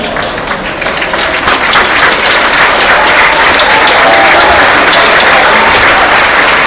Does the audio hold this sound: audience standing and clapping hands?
yes